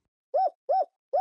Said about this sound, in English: which of the other hoots sound like this one?